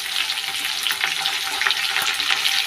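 Curry leaves with onion and green chilli hit hot oil in a pan, giving a loud, dense, crackling sizzle that stays close and steady for the whole moment.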